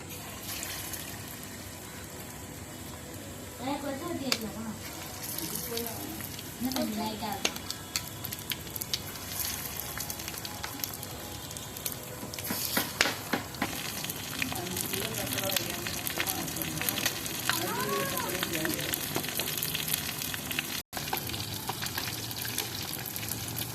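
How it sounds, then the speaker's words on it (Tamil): Fish frying in hot oil gives a steady hiss and crackle throughout. Muffled voices murmur faintly in the background at times. "நம்ம இப்போ மீன் போட்டு பொரிச்சுக்கலாம் ஃப்ரெண்ட்ஸ்"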